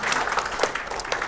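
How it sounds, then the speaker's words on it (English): Audience applause for a guest at table 10 during a business event, a steady wash of clapping through the short moment without a clear break. "Now, Reg, round of applause."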